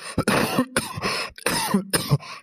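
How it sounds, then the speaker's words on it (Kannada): A man with a cold coughing and clearing his throat, several harsh close bursts in quick succession with short pauses between. "ಕೆಮ್ಮಿ ಕೆಮ್ಮಿ ಗಂಟ್ಲ ಇದು ಎಲ್ಲಾನು ನೋಯ್ ಸಾಕತ್ ಬಿಟ್ಟತೆ"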